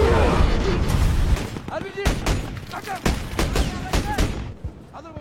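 Gunfire and RPG fire on a battlefield in Yemen: a heavy opening blast followed by a rapid series of sharp shots and bursts, some loud and near, fading slightly toward the end.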